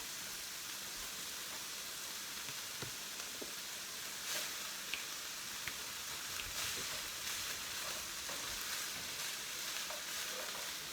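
Onion sizzles steadily in a hot pan for pork tacos, a soft continuous hiss with faint crackles and occasional stirring, fairly quiet throughout.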